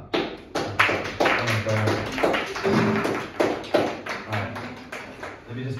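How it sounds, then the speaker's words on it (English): Audience members clap after a presentation on art journeys. The claps come as irregular, fairly close bursts that rise and fall, mixed with brief talking in the room. "let's have a clap"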